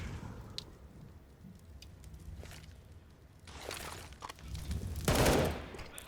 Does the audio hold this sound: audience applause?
no